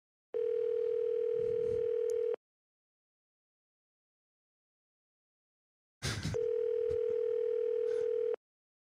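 A call to a landline rings out with two long, steady electronic ringback tones, each about two seconds, separated by a few seconds of silence.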